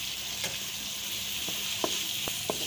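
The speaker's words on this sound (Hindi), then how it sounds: "मसाले को हमने अच्छी तरह फ्राई कर लिया है।" Potatoes frying in a pan with masala, salt and chili for a capsicum-potato dish give a steady, close sizzle and hiss, punctuated by a few sharp clicks of stirring.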